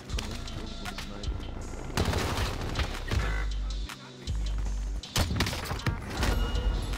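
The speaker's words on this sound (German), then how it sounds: "Von hinten irgendwo ein Sniper." Gunfire in the video game Call of Duty Warzone with a sniper shooting from behind: several loud, sharp shots and heavy booming impacts spread over the moment amid busy game noise.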